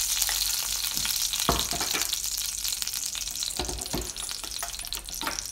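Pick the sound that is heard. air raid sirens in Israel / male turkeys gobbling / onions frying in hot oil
onions frying in hot oil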